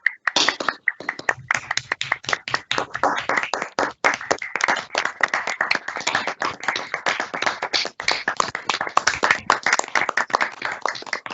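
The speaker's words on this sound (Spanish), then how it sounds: "Un aplauso para vosotros." Applause fills the whole stretch at the end of an online talk on Frank Lloyd Wright houses. Dense, steady hand clapping comes with a few gaps, close and fairly loud, with no voices.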